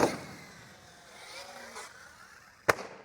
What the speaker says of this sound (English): that was an asphalt landing. At least I landed on the wheels though.